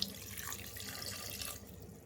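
Water poured into a pot of cooked dal while making pappu charu, a steady, fairly loud splashing pour lasting about a second and a half before tapering off.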